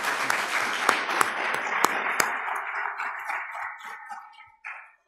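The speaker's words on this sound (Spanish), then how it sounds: "pido un voto de aplausos para el doctor Andy Carrión Centeno" Scattered applause from a conference audience at a talk on anti-corruption compliance, a few sharp claps standing out before the sound thins and fades away.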